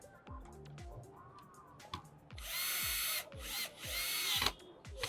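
Power drill driving four bolts into a PC case during assembly, with short whirring bursts between small metallic clicks, followed by two longer, louder sustained runs of the drill up close.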